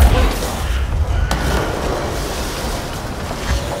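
Shirtless floating enemies blowing up in the video game Control, a loud low boom at the start trailing into a dense rumbling roar that stays steady to the end.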